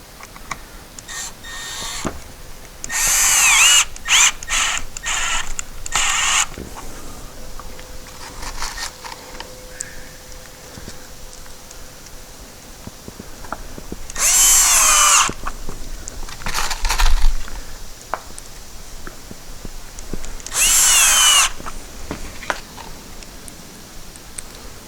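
A power drill drives screws into a rotten cargo trailer door being repaired, three or four loud whirring bursts separated by quieter handling clatter and ticks.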